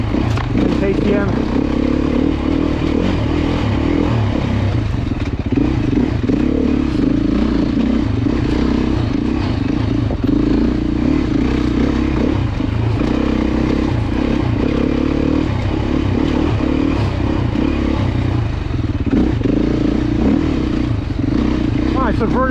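A Beta 390 four-stroke dirt bike runs steadily at a demo day, its engine droning continuously with low rumble, some clatter and scraping, while people talk over it throughout.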